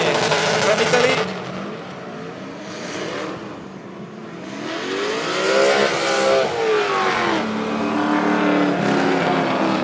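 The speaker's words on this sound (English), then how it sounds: "Nice leading run from Yves Meyer, the Swiss, with the BMW M2 HDK" A BMW M2 drift car engine on a leading run at a drift battle, loud and sustained with rising and falling revs and passing sweeps, a commentator's voice faintly beneath.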